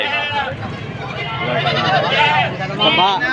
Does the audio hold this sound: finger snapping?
no